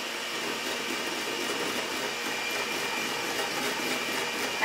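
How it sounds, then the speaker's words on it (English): Electric hand mixer whipping egg yolks for low-carb eggnog, a steady high-pitched motor whir with a constant airy buzz, close and even from start to finish. "So, you know, I'm gonna use a hand mixer. So I'm gonna really quickly get that going."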